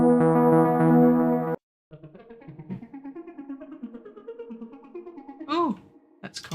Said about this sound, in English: Cats in space.